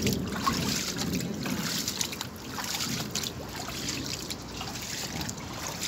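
Floodwater runs along a street turned river after rain, a trickling, gurgling flow heard up close with splashing movement through the water and no talking.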